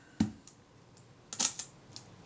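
Kodak Retina Reflex type 025 camera with a faulty shutter release gives a sharp mechanical click, then a cluster of quick clicks and clacks as the shutter is cocked and fired, close and isolated in a quiet room.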